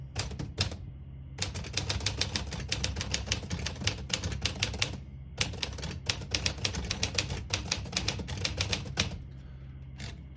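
A 1949 Smith-Corona Silent portable typewriter typing in red ribbon: rapid bursts of crisp keystrokes in two long runs separated by a short pause, close and loud, with no voices.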